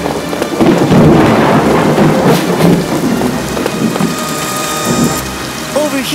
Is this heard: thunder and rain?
yes